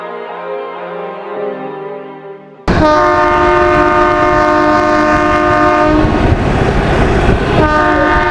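Train at Kalka station on a Kolkata to Shimla journey, a quiet tonal hum that suddenly bursts into a loud, sustained multi-tone horn blast over rumbling rail noise.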